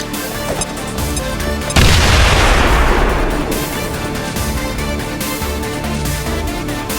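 Grenade blast in the XCOM video game, a sudden loud broadband boom about two seconds in that decays slowly over several seconds beneath continuous game music and ambience.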